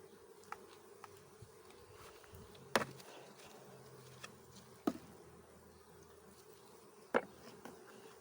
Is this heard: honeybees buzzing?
yes